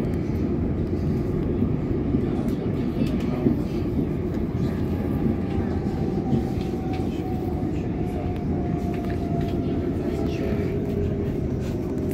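A London train rolls into a station platform with a steady low rumble and a rising whine, its continuous noise holding at moderate loudness throughout.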